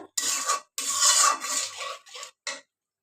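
A metal spoon scrapes and rasps against a pan while spice paste for beef tripe is stirred and fried, coming in close, loud bursts of rough scraping separated by short pauses, with no talking.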